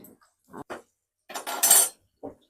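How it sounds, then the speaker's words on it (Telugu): Onions tipped into a kadai of hot oil for an egg masala curry, giving short utensil knocks and then a loud burst of sizzling and crackle that fades, followed by a brief clink. "కడాయిలో 1 కప్పు నూనె పోసుకొని ఉల్లిగడ్డలు వేసుకోవాలి"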